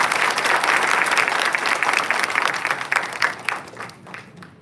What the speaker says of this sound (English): Let us all appreciate her with a huge round of applause.